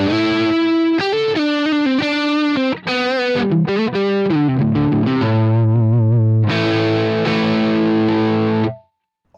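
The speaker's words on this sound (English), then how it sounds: "Let's try on the neck pickup." Electric guitar on the neck pickup through a Valeton GP-50 with overdriven tone plays a quick melodic lead phrase of many picked notes, then holds a thick sustained chord before cutting off, loud and without any voices.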